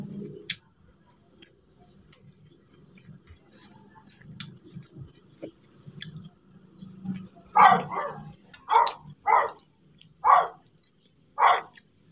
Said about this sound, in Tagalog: may aso, tumatahol ang aso namin